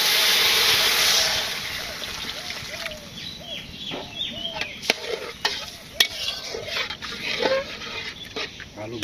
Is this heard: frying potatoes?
yes